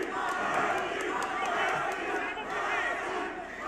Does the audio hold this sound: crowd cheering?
yes